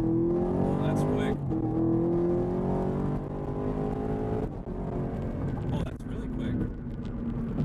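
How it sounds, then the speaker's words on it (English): A 2019 Chevrolet Camaro SS V8 rumbling loudly through its exhaust with pops and crackles as revs rise and fall, close and sustained, with someone talking over it. "the pops and crackles, that's just on a next, that's on a totally different level"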